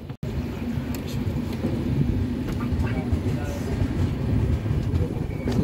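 Intercity superfast express train (12796 LPI-BZA) rolling steadily on a non-stop run near Nalgonda, a continuous loud rumble with faint rail clatter from on board, voices murmuring underneath.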